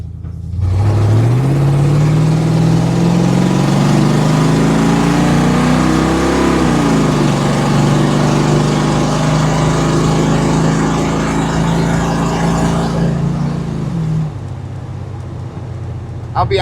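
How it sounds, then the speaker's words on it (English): The engine of a 1986 Ford F150 pickup truck revs up loudly and climbs in pitch. It holds a high, roaring drone for several seconds, then drops back to idle near the end. "I hate how loud this truck is."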